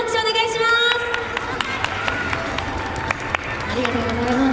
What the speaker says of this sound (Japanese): ウップスの皆様にもう一度大きな拍手をお願いします。